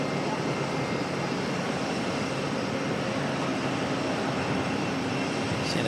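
Airbus A321neo jet at Auckland Airport, a steady broadband engine roar that holds loud and even throughout, with no talk over it.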